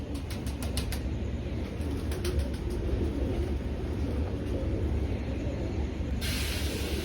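Soft cooing and faint wing flutters of old Indian breed pigeons inside a large loft, low and continuous over a hissy background, with a brief burst of hiss near the end.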